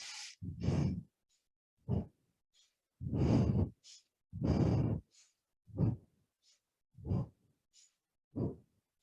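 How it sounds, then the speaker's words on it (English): Slow, deliberate breaths in and out accompany shoulder lifts in a gentle exercise flow, each inhale and exhale heard clearly and close, alternating with short silent pauses. "You can breathe in, lift up, exhale down."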